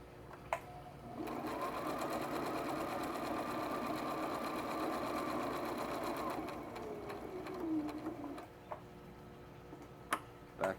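A sewing machine runs a seam on a drawstring pouch, one continuous close hum of several seconds that slows and stops, framed by scattered clicks and handling taps.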